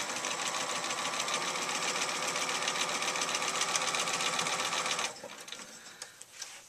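A sewing machine stitches quilt pieces in a steady, close, rapid whir for about five seconds, then stops, leaving a few faint clicks.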